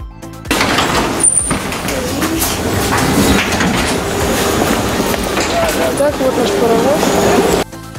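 Tram running on its rails with a steady low rumble and wheel noise throughout, briefly punctuated by squeals, while people talk faintly nearby.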